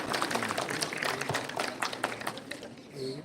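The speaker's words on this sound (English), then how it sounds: "Let's have a bit of warm-up by giving a round of applause for our perpetually committed sisters and our jubilarians." Audience applause for committed sisters and jubilarians at a religious felicitation program, a dense burst of many hands clapping at moderate distance with voices mixed in, fading toward the end.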